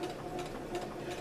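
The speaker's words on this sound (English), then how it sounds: "I'm going to go ahead and sew this." A sewing machine stitches swimsuit fabric in a brief, steady run of rapid mechanical whirring, close and fairly quiet.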